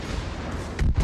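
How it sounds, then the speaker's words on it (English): Naval gun salvo slamming into a battleship in the Großer Kurfürst warship game, heard as a short pair of heavy low booms near the end after a steady rumbling background. "Ah, that was a good salvo on me."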